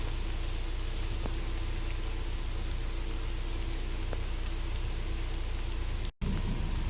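Steady, loud rain pours through the night with a dense, even hiss, broken by a faint rumble of thunder and one brief dropout near the end; nobody speaks.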